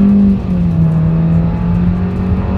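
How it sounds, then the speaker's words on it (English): A 2024 Nissan Versa accelerating hard in sport mode while merging, its engine a steady, loud droning whine that holds a rising pitch from inside the cabin. "let's see how quickly we can get our new 2024 Versa here in sport mode up to speed"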